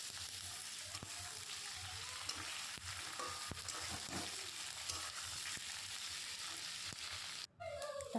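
Ginger and garlic paste frying in a pan for an egg curry, a steady close sizzle with occasional stirring scrapes throughout, briefly cut near the end.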